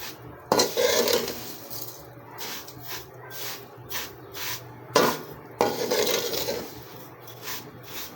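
Sugar stirred into vermicelli in a cooking pan, with scraping and clinking of a utensil against the metal in repeated bursts, close and moderately loud, no talking.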